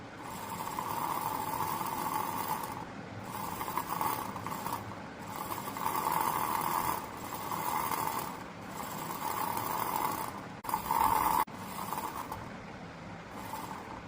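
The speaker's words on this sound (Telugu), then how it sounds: "మోటార్ అనేది రన్ అవుతుంది." A small electric motor switched on by a slot sensor runs with a steady mechanical whir and faint ratcheting clicks, pulsing in regular surges and briefly cutting out near the end.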